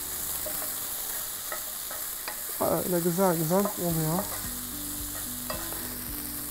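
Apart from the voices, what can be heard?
chicken and onions frying in a pan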